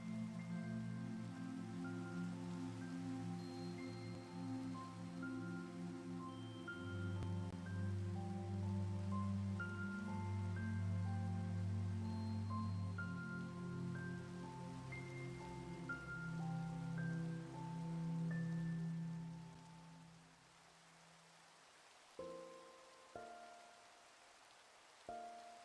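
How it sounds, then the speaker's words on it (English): Steady rain hisses in a video game running on an HP Victus laptop under Linux, with sustained ambient tones over it. The rain fades out near the end, leaving a few sharp blips. "Oh no, it's raining."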